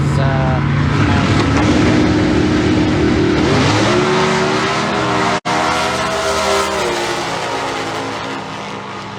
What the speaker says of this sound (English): Russell's running, I think, a 305 cubic inch engine out of an 80s Camaro